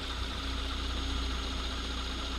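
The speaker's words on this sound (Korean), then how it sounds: "엔진 소리도 한번 들려드릴게요" A Genesis car engine idling with a steady, constant low rumble and mechanical hum, close and continuous with no voices.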